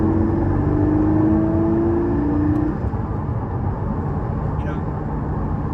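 Porsche Cayman GT4 engine revved while stationary, a loud steady drone with a rising whine that holds for a couple of seconds, then settles to a rough idle.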